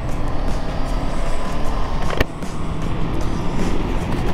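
A Honda CB500X motorcycle engine runs steadily while riding, a continuous loud drone with rumbling low end and wind noise, close and unbroken throughout.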